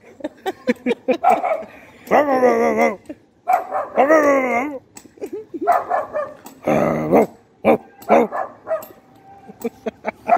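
Dog on a rooftop barking in sharp, close bursts mixed with long, wavering growls and whines, irregular and loud, with people talking around it.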